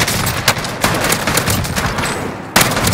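Rapid shotgun and gun blasts from Call of Duty Modern Warfare ring out in a loud, continuous barrage with a sharp shot near the end.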